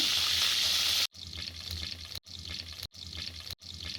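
Water gushes into a cooking pot of haleem with ginger-garlic paste for about a second, then several short splashy pours follow, each cut off abruptly, close and fairly loud.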